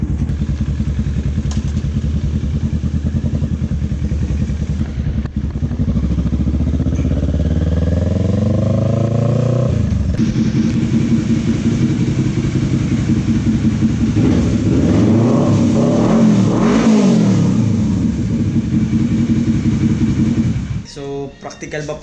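A big bike motorcycle engine runs loud and close, idling then revving as it pulls away, its pitch rising and falling through several gear changes before cutting off near the end.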